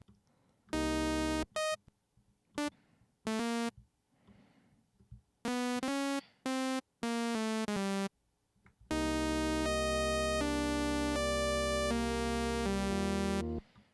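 A bright, buzzy sawtooth synth lead with envelope-controlled shaping plays a melody in short separated bursts with gaps, then settles into longer sustained notes, loud and up close.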